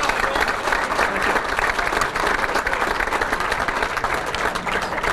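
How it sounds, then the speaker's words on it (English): A banquet audience at a sports hall of fame dinner bursts into sustained applause, a dense, even wash of many hands clapping from start to finish. "we'd like to give him a round of applause"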